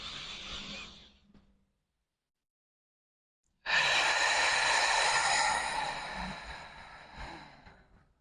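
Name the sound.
deep breathing out during pelvic floor exercise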